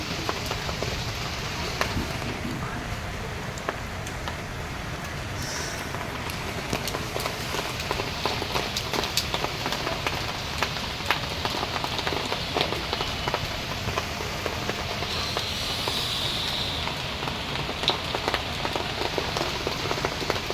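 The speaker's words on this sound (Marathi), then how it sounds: "बघा मंडळी मुंबईत किती पाऊस आहे भरपूर पडतो" Dense, steady heavy rain in Mumbai patters on a hard surface with countless fine drops, a constant hiss and occasional sharper splashes close by.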